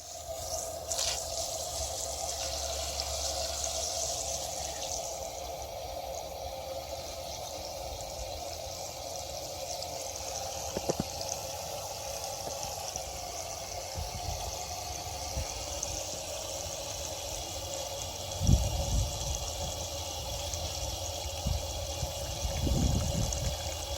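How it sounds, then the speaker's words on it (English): Ordinary tap water is poured into a container packed with weeds to brew homemade organic fertilizer, giving a continuous hollow rush and trickle that holds steady throughout, with a few brief clunks near the end and no speech. "Fill this container right up to the brim with just regular water."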